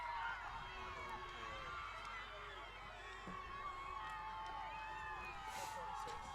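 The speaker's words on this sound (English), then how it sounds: "you can hear a lot of cheering from the bleachers" A distant crowd on the bleachers, the women's soccer team among them, cheers steadily at a university soccer match after a goal, a continuous wash of voices and shouts under a commentator talking throughout.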